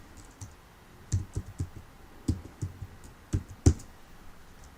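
A name typed on a computer keyboard, a few close, quiet key clicks in small irregular clusters against a near-silent room.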